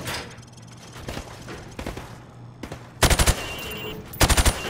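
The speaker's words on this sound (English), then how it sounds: "I want you to shoot the targets through the wood." Video game gunfire from Call of Duty 4: Modern Warfare Remastered, shots fired through thin plywood at targets; scattered single shots and thuds give way to two loud, rapid bursts of close automatic fire.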